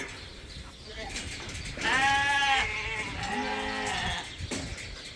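Several sheep ewes bleat in a farm field, a loud wavering call followed by a second, lower drawn-out bleat, with other animal noise in the background.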